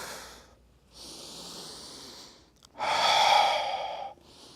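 A deep qigong breath at the end of a gentle tai chi session for limited mobility, with a soft exhale, a quiet inhale, then a louder, airy breath heard up close with no talking.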